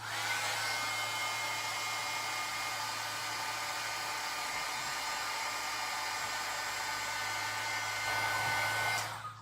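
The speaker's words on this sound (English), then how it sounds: "I'm going to turn the heating gun on one more time." A heat gun blows steadily over an embossed craft panel, giving a continuous close whooshing hiss with a low motor hum underneath, running unbroken for several seconds before cutting off at the end.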